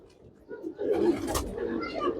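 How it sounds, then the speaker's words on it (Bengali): Soft, low coos of female pigeons close by, a few murmuring calls rising over faint background rustle. "আজকে মাদি কবুতর গুলা ছাড়ছি এখানে মাদি কবুতর গুলা ছাড়ছি"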